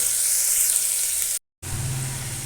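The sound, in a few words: onion, ginger and garlic sautéing in hot oil in a pan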